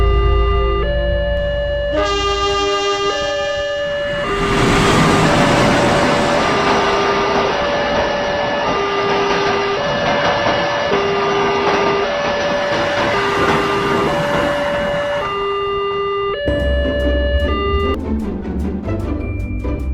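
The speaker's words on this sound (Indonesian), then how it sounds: "Setelah kereta melintasi JPL ini dan lalu lintas kembali berjalan" A train rolls past a railway level crossing while a repeating two-tone warning bell chimes loudly and steadily. A broad rushing rumble swells in the middle as the train goes by, then fades.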